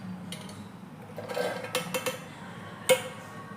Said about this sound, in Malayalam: ഇതാ നമ്മുടെ മിക്സിയുടെ ജാറിലേക്ക് നമുക്ക് അനാറിട്ട് കൊടുക്കാം.